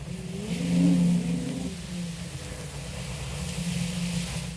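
Cartoon steam engine's wheels spinning without grip on slippery hay-covered railway rails, a steady mechanical chugging whir with one louder swell near the start, continuing alone at moderate level.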